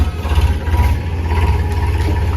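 A farm tractor engine idles nearby, a loud, low, steady diesel throb with a faint rhythmic pulse, running alone without talk.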